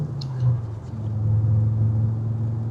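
A 1983 Audi GT5S Coupe on the move, its engine a low steady rumble from inside the cabin with a brief swell in revs early on.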